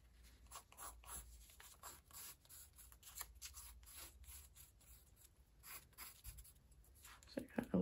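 Soft, close scratchy strokes of a pencil on paper, repeated in short rhythmic bursts with brief pauses, faint and intimate.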